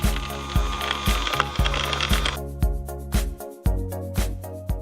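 A small solar-powered mill grinding corn gives a loud, rhythmic mechanical ratcheting, repeated clunks about twice a second over a steady low rumble, heard close up.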